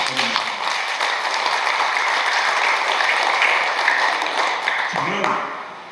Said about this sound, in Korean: 이 모든 분들에게 여러분 축하의 박수 한번 보내주십시오